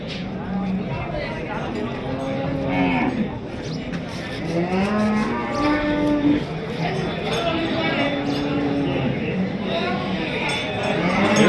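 Bulls mooing repeatedly in long, drawn-out calls at Chakan cattle market, several animals overlapping amid a busy crowd murmur of people talking.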